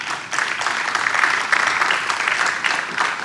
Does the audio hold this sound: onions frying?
no